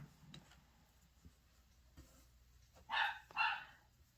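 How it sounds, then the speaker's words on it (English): Pet dogs bark indoors nearby, two quick sharp barks in close succession near the end after a stretch of faint household quiet with soft clicks. "I know you can hear my dogs"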